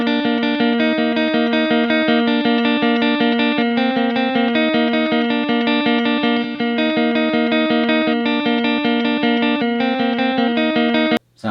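Clean electric guitar played through a KSR Orthos 2 amplifier on a low-gain single-coil neck pickup, a steady run of picked notes and chords with light effects, loud and close, ending in an abrupt cutoff.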